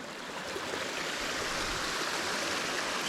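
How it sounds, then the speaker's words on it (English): Running water of Grimesbrook, a mountain brook in the Peak District, makes a steady close-up babbling rush, even and continuous across the few seconds with nobody speaking. "Sounds of running water behind me."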